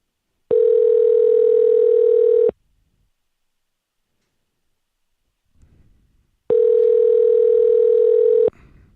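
A telephone dial tone sounds twice during outbound calls, each a steady, loud, two-second tone separated by a few seconds of near silence with a faint rustle in between.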